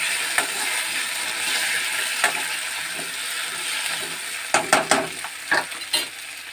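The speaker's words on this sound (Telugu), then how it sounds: "ఇప్పుడు చామదుంపలు వేసుకున్నామండి." Taro roots frying in a pan for a tamarind stew, a constant close hiss of sizzling oil broken by a few sharp metallic scrapes of stirring near the end, no talk.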